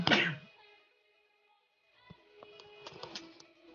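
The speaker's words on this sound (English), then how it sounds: "Almost didn't get that mic out of the way, that sneeze" A person sneezes once, sharply and loudly, right beside a microphone during an online gaming session. Near-silence follows, then faint clicks and small knocks.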